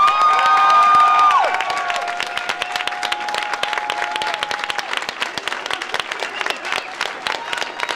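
Loud audience applause at a dance center event, dense clapping from a crowd mixed with some cheers, a sustained whistle-like tone at the start, then steady clapping continuing near and full throughout.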